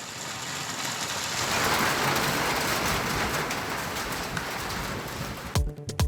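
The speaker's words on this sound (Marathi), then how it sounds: "जिल्ह्यातील तासगाव तालुक्यामध्ये सुद्धा वादळी पावसाचा मोठा फटका बसला।" Heavy rain from a storm in Tasgaon taluka pours down in a dense, steady hiss, with a low rumble beneath it and a brief change near the end.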